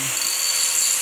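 Grinder working on the weld of a DIY air tank, a sustained high-pitched abrasive whine at steady close loudness through the brief moment, with no talk.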